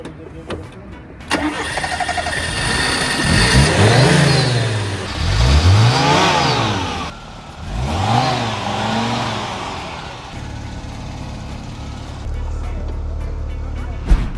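A car engine cranks and catches, then revs up and down in three strong surges before settling into a low, steady idle near the end; people are heard faintly in the background.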